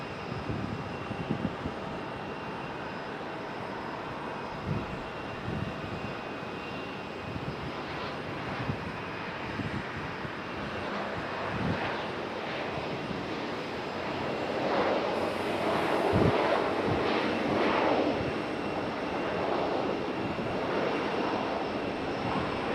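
A distant ATR turboprop airliner rumbles in to land at Raleigh-Durham, a broad, steady engine roar that swells gradually toward the end, with no voices.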